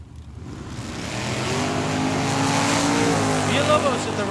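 Drag race cars, including a white Chevy Camaro, launching at Tucson Dragway, engines roaring up loudly and steadily with rising pitch, an announcer talking over the noise.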